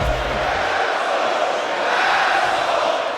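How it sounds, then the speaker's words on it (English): Crowd booing in a wrestling video game arena set in Las Vegas, a dense, continuous roar of many voices that holds steady and loud throughout, with a brief low thump at the start. "this crowd here booing the hell out of him"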